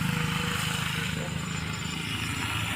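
A motorcycle engine hums steadily nearby on a road on the way to church, a low continuous drone with faint background noise and no clear speech.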